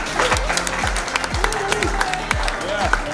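An audience at a spoken word show applauds a team, the clapping steady and fairly loud while voices and low rhythmic sounds continue underneath.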